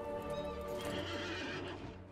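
A horse in the game Lord of the Rings Online gives a brief whinny layered with clip-clopping hooves, a short fairly quiet burst that fades at the end.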